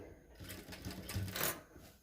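A sewing machine stitching a blouse in a short, close, quiet burst of rapid mechanical ticking that rises then fades.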